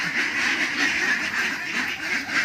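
A flock of ducks quacking continuously at a small farm in Assam, a dense, steady chorus of overlapping raspy calls filling the whole stretch, loud and close with no talk.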